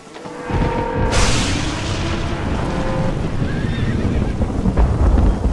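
Spooked horses in Red Dead Redemption whinny and neigh amid a dense, rumbling stampede din. A sudden loud surge hits early and holds steady, with a low thunderous roar underneath.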